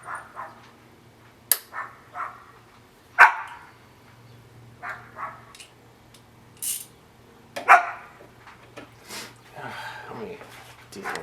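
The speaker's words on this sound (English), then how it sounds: "deal with this barking real quick." A dog barks in short, separate bursts of one or two barks spread across the stretch, moderately close, with quiet gaps and light shuffling between them in a workshop setting.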